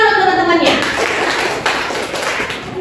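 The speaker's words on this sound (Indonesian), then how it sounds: "Tepuk tangan untuk teman-temannya." Classmates in a classroom guidance session clap together in a burst of applause, a dense steady patter of hands close by after a brief spoken line.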